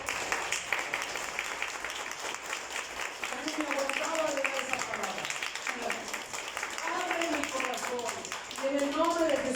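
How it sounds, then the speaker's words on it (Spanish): A church congregation claps together, the applause steady and fairly loud, while a preacher's voice keeps talking and rising in pitch over it. "Dale un aplauso al Señor."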